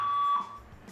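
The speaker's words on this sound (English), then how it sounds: "Any time the fire alarms went off while I was recording" Fire alarm sounding indoors with a single steady electronic tone that holds loud for about half a second, then cuts off, leaving quiet room noise.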